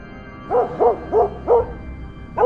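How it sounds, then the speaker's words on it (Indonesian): A hunting dog barks in a forest: five rhythmic, moderately loud woofs at regular spacing, the last cut off at the end, over quiet woodland background with no talking. "Seekor anjing pemburu tiba-tiba menggonggong keras di tengah hutan"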